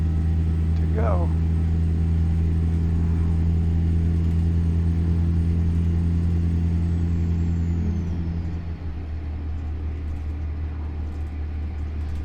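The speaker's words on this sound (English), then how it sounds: "I was talking about the sound of the engine and the diesel engine" A steady, loud truck diesel engine in the video game American Truck Simulator idles with a deep droning rumble, a brief hiss of air partway in, then the engine note drops off.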